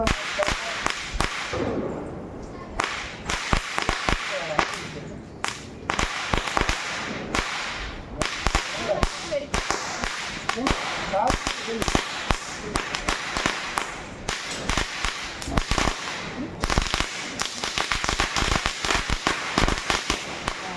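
A long string of saravedi firecrackers bursts slowly and steadily, a continuous run of loud sharp cracks and pops in irregular rapid rhythm, close by, with brief faint voices under the blasts.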